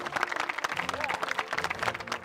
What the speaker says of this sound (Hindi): मेरे बाईं ओर जोरदार तालियां हो जाए इनके लिए